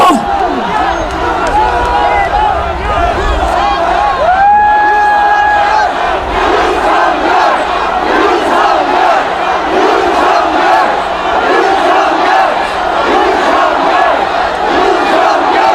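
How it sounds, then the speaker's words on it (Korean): A large crowd at a presidential supporters' rally in Korea cheers and shouts loudly and continuously, a dense roar of voices with chanting swells that stays strong throughout. "대통령을 환호하는 이 목소리가 하늘에 닿을 것이고"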